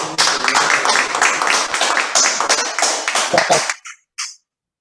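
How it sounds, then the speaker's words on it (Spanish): A class of students in a speech methodology course claps loudly and unevenly for about four seconds. The clapping stops abruptly, leaving a couple of faint trailing claps before silence. "Fuerte aplauso para ustedes."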